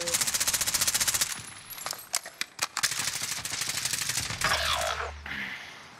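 Rapid automatic gunfire in a first-person shooter video game, loud bursts of rattling shots followed by scattered single cracks and further volleys, with faint players' voices underneath.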